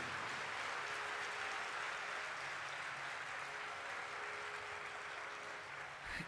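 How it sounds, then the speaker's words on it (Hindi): A large crowd at a religious discourse gathering claps hard and steadily for the Jain monk Lokesh, a continuous wash of applause without speech. "एक बार जोरदार ताली बजाइए"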